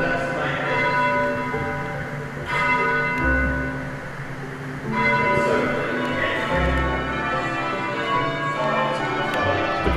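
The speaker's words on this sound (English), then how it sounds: "they were going to reinstall the new bells and that they were going to be rung properly" Church bells of St Andrew's Cathedral, Singapore, ring in rounds, a steady sequence of one tone after another, full and resonant with a lingering hum, heard from nearby with no voices.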